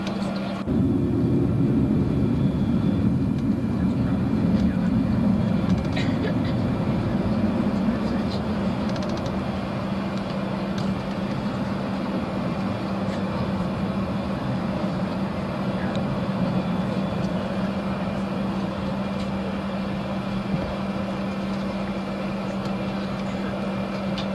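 Steady low cabin drone inside an Eastern airliner hums on without a break for the whole stretch, fairly loud, while voices murmur faintly underneath.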